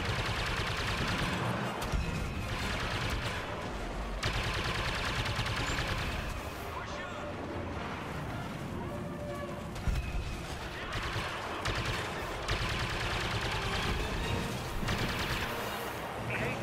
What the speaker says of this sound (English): I am just shooting the guys around it